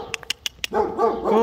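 A dog at a communal apartment building in Buchovo, Bulgaria, gives about four short, sharp barks close by, then a person starts talking over the quiet that follows.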